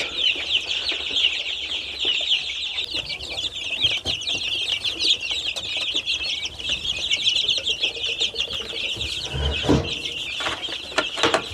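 Young chicks on a poultry farm cheep and cluck in a dense, continuous high chorus, with occasional wing flaps and shuffling close by.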